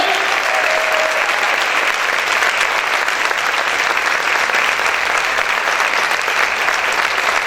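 Sustained, loud applause from a worship congregation, a thick continuous patter of many hands clapping throughout with only a faint brief tone near the start.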